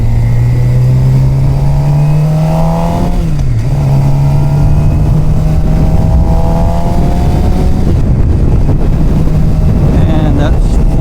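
A Suzuki GSXR motorcycle engine hums steadily while cruising around 50 mph, its pitch dipping briefly at a gear change amid heavy wind rush, with a rider talking over it.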